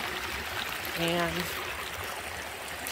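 Water runs steadily through a front garden water feature starting to ice over in winter, a continuous trickling wash with a brief voice speaking over it.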